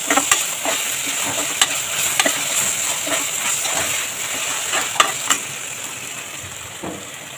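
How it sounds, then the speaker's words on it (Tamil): Onions sautéing with ginger garlic paste for a crab masala, a steady sizzle of frying with repeated scraping clicks of a spoon stirring the pan, close and continuous, without talk. "இப்போ நம்ம நல்லா வதக்கிக்கலாம்."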